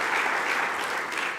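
Audience applause fills a conference hall at the Bled Strategic Forum 2024, a steady, even wash of clapping heard on its own from start to finish.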